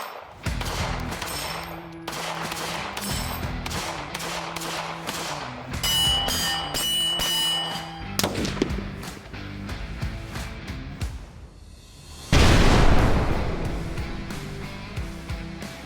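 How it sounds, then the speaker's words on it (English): A Stoeger STR-9C pistol fires a rapid string of loud close shots on a range, with sharp, ringing reports and bursts of back-to-back fire throughout. "So today we're going to do the first shots to this pistol and tell you our initial impressions."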